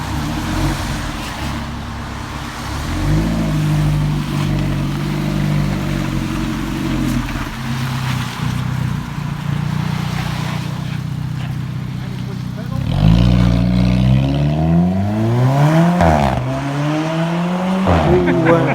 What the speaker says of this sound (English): my friend Jan had a little drive in his lovely car.